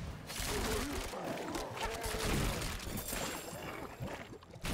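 Repeated explosions in Diablo 4 combat, a dense barrage of booming blasts and rumbling impacts layered together for several seconds, loud and continuous with game effects, a voice faintly present underneath.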